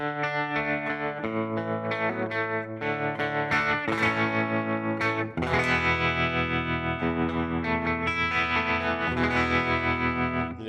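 Electric guitar chords through an Enchanter overdrive pedal and a tube bias tremolo, warm overdrive with a pulsing tremolo wobble, played steadily and close with a full, sustained tone.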